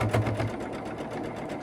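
Sewing machine stitching through a quilt block, a steady fast mechanical whir with rapid needle rhythm, close and continuous throughout with no talking.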